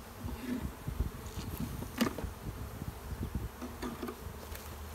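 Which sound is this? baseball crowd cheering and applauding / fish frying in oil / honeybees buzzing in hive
honeybees buzzing in hive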